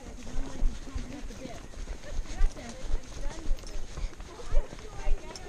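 Horse hooves walking, steady rhythmic clip-clop thuds close by, repeating roughly every half second under people talking throughout.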